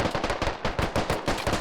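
Rapid automatic gunfire in the military shooter game Squad: a close, loud burst of about a dozen evenly spaced shots in quick rhythm with no talking.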